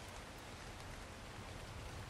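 Rain in the survival game Ark, a steady, faint hiss of falling drops spread evenly with no breaks.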